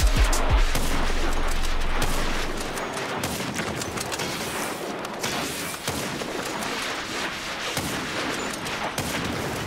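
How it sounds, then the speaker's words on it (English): Rockets fired in GTA V Online, a heavy low roar at first, then a dense rattling barrage of blasts and sharp cracks continuing steadily, loud and close. "All I had to do was shoot rockets"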